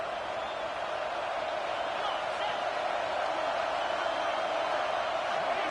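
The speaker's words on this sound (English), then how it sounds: "how nice is it to have the home crowd going absolutely bananas?" A home football stadium crowd roaring at a college game, a broad, steady wall of cheering that holds at full volume without a break.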